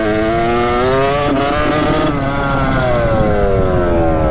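A cheap $380 dirt bike engine revs loudly and steadily, its rising and falling pitch sustained close by with no talk over it.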